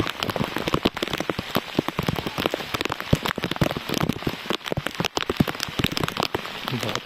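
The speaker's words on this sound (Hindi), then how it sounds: "बहुत तेज़ बारिश हो रही है।" Heavy rain pours down in a jungle, a dense steady hiss of countless drops drumming on surfaces with sharp close patters, continuous and loud with no talking.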